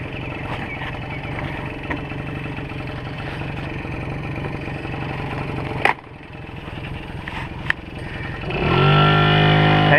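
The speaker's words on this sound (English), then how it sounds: "it's a smooth running machine. Listen to it just chug along." A 1978 Yamaha Chappy LB50 small motorcycle engine chugs steadily at idle nearby, with a couple of sharp clicks, then revs up louder near the end.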